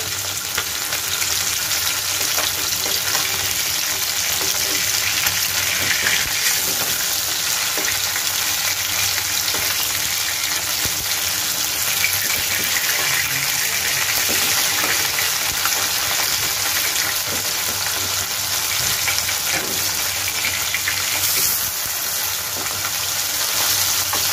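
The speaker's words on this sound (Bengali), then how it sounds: "আবার মাছ ভাজা হয়ে গেছে" Steady, crackling sizzle of poma fish frying in hot oil, continuous and close, with occasional stirring and no voices.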